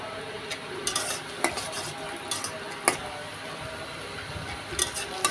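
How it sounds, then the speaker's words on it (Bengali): Whole bay leaves, cinnamon sticks and cardamom pods fry in hot oil in a pan for a beef ball curry, giving a steady close sizzle broken by several sharp clinks and scrapes of a stirring utensil against the pan. "এখন ওখানে তিনটি তেজপাতা দিয়ে দিলাম আর এখানে দু টুকরা দারচিনি আর তিনটি এলাচ দিয়ে দিলাম"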